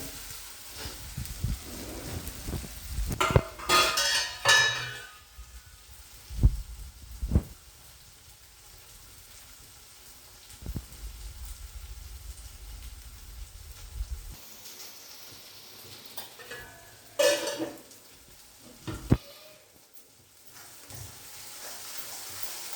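Small fish masala simmers in oil in a pan with a faint, uneven sizzle, broken by a few louder clinks and knocks of a utensil against the pan.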